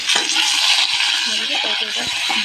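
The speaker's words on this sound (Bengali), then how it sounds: "মাঝে তেল দিয়ে দিলাম পটল আর আলু এগুলো একটু হালকা করে ভেজে নেবে" Pointed gourd and potato pieces frying together in oil in a pan, giving a steady close sizzle with occasional clinks and stirring scrapes, while a voice talks faintly over the cooking.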